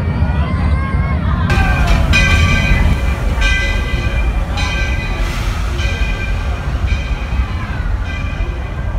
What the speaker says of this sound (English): This old locomotive is descended from the mighty trains that powered the golden age of steam.